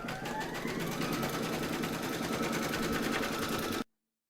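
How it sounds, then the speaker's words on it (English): An embroidery machine stitches a placement outline in a hoop for a coaster, a fast, even mechanical chatter that stays loud and steady for nearly four seconds, then stops abruptly. "Pop your hoop into your machine and stitch round number 1, and that's going to give you a placement outline for your batting."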